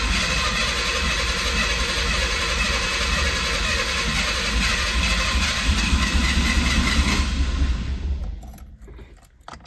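Ford Bronco II engine cranking over for about eight seconds, a steady loud churning drone that cuts off abruptly, leaving quiet with a faint rattle at the end.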